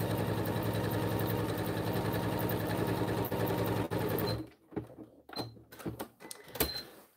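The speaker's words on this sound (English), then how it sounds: "So just stitch along and make sure your last one goes on the edge, even if it's like 1/8." A sewing machine stitches along the edge of a diagonal zippered pouch, a loud, steady, fast mechanical chatter for about four seconds that stops abruptly, followed by a few scattered clicks and handling sounds.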